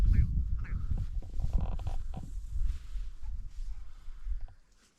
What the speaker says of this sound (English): because them grouse make plenty of noise